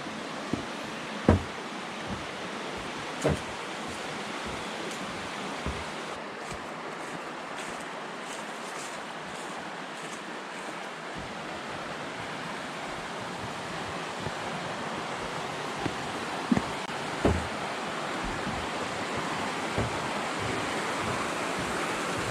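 Steady rushing water of Bearcamp Creek on the Foothills Trail, a continuous broadband wash running through the whole stretch with a few soft knocks and thumps near the microphone, no voices.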